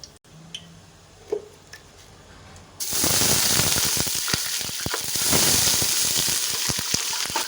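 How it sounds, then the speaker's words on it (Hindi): Water poured into a hot pan while cooking zarda sweet rice erupts into a loud, steady sizzle after a quiet start, crackling and hissing continuously with scattered pops for several seconds. "अब इसमें हम पानी को ऐड करेंगे"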